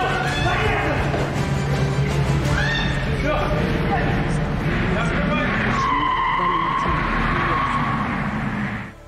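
A car pulls up amid loud, continuous commotion, with tires skidding and engine noise mixed under shouting and talking voices throughout.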